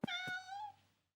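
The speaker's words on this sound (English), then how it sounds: "Cats. They're a Bing thing. Meow." A cartoon cat gives one short, clear meow, rising and then trailing off, heard alone and close up.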